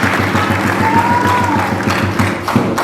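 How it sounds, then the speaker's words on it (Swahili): Crowd clapping at a Young Africans (Yanga) championship speech gathering in Dar es Salaam: a sustained, dense round of applause, fairly loud, with a brief whistle-like tone and scattered thumps mixed in. "Tumpigie makofi."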